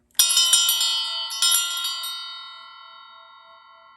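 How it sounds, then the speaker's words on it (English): A metal bell struck several times in quick succession, bright and close, its clear ringing tone then decaying slowly into a long shimmering fade. "We're going to go ahead and ring the bell to clear out any other energies"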